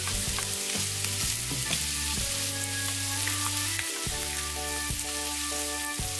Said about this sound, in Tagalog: parang piniprito ko muna siya, pinapa-brown ko siya